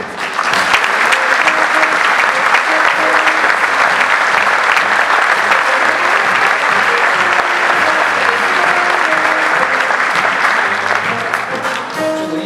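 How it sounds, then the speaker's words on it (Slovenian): Sustained, dense applause from a large audience at the Slovenian Olympic Committee awards ceremony for athletes, loud and steady for the whole stretch and easing only slightly at the very end. "Še en aplavz."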